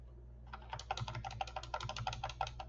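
Fingers type a short word on a computer keyboard. A quiet, close run of light key taps follows a brief silence, irregular but steady for about two seconds, with no talk.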